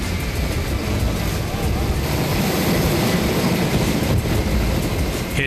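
Forestry aviation helicopter flying over a large chestnut-tree mountain while spraying pesticide, a loud continuous rotor and engine roar that holds steady throughout, with no clear break.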